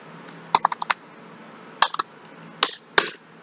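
Names are typed into a spreadsheet column on a computer keyboard: short bursts of crisp, close key clicks separated by brief pauses.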